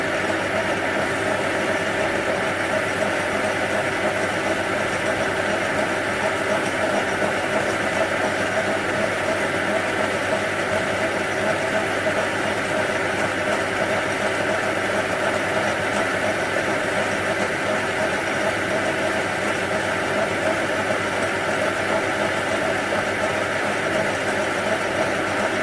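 A metal lathe takes a facing pass across stainless steel at 612 RPM with a CCMT insert tool, giving a steady, continuous mechanical hum and whine that holds level throughout without pauses.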